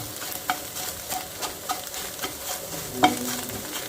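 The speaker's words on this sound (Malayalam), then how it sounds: "മുട്ടയുടെ വെള്ളമൊക്കെ പറ്റി നമുക്കിങ്ങനെ ഇടയ്ക്ക് ചിക്കി കൊടുക്കാം." Egg bhurji frying in a pan as it is stirred, with the egg nearly dry: a steady sizzle under a run of soft scraping strokes, one sharper clatter near the end, and no one speaking.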